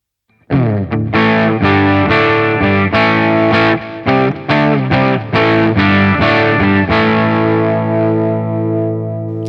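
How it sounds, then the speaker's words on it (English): Distorted electric guitar through a Line 6 Helix Floor amp preset with minimal amp drive plays a loud run of picked notes and chords, each attack ringing out with an echoing delay tail that fades at the end. "So here is with just the amp drive, which is very minimal."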